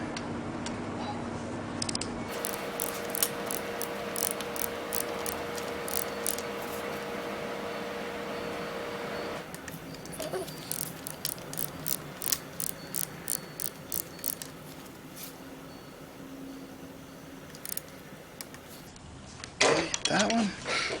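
A torque wrench clicks and ratchets while tightening the top-end cam cap bolts of a Suzuki GS550 motorcycle engine, with a run of crisp, evenly spaced clicks after a steady hum in a quiet workshop.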